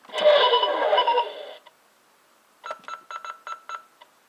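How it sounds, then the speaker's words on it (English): A burst of harsh, screechy electronic noise, a short pause, then a quick rhythmic series of beeping tones like a toy modem dialing. "you've got the computer here, which makes a few sounds."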